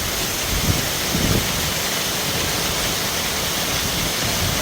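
A waterfall deep in the mountains pours down in a steady, full roar of broad rushing noise, unbroken throughout, heard from close by.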